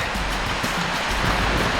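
Rough surf and ocean waves pounding a beach in strong wind, a steady broadband roar with continuous wash and no distinct breaks, loud and close throughout.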